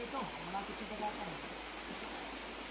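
Water of the Palsawan River in Palsabangon, Pagbilao, Quezon flows steadily in a soft, continuous rush, faint and close, with people talking over it.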